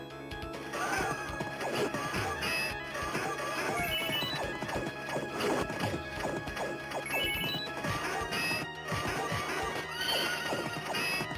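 Game audio from Knights of the Round on the Evercade Alpha of a horse whinnying and galloping, with hoofbeats, crashes and impacts layered over a busy soundtrack.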